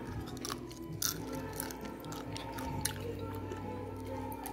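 Crisp air-fryer sweet potato chips crunch between the teeth in several sharp bites followed by steady close chewing in a quiet room.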